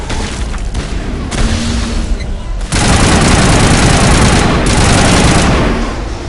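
A heavy, loud blast from a grenade in Mass Effect Legendary Edition booms through constant battle gunfire, the rumble swelling midway and sustaining to the end with no voices.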